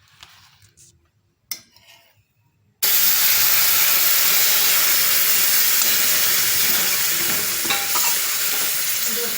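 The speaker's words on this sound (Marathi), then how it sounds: "आता आपण त्याच्यामध्ये दूध टाकून घेणार आहोत।" Hot milk poured into semolina roasted in ghee for sweet shira erupts into a loud, sustained hissing sizzle after a few quiet seconds with light clinks, then keeps bubbling steadily up close.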